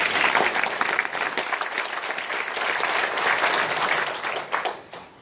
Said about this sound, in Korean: 함께 박수 한번 치시죠.